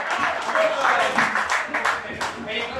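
A comedy club audience applauding and cheering a comedian as he is introduced, a dense, steady wash of clapping mixed with crowd voices and whoops across the whole stretch.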